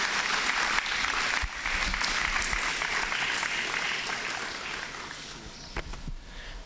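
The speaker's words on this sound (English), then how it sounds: "Can we please give another round of applause to the outgoing A-Level class?" Steady round of audience applause for the outgoing A-Level class at a school prize giving day, a dense wash of clapping that holds evenly and eases slightly toward the end.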